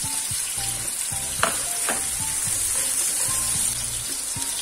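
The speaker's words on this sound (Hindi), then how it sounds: "शिमला मिर्च येलो वाली, और इसे हम पकाते हैं।" Yellow bell pepper and green chili fry in a pan for tacos, producing a loud, steady sizzle with occasional stirring scrapes and clinks close up and no speech.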